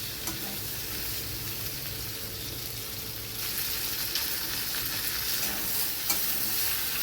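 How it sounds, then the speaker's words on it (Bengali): Sliced okra sizzles steadily in hot oil while a spatula stirs it, giving a continuous close frying hiss with light scraping and no talk. "ভেন্ডিগুলো দিয়ে খুন্তি দিয়ে ভালোভাবে নেড়ে নেব।"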